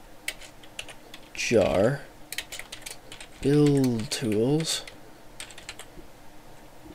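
Quick bursts of typing clatter on a computer keyboard, close and crisp, alternating with a man's spoken words.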